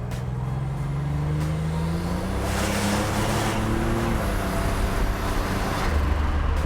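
A 1987 Grand National accelerates on the road, heard from inside: the engine climbs in pitch, shifts gears and climbs again over a steady road and wind roar.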